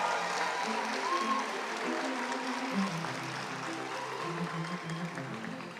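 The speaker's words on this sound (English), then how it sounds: "you can feel free to cheer for all of them" Audience at a medical school white coat ceremony applauding and cheering for graduates, a steady dense wash of clapping and crowd noise held at an even level throughout.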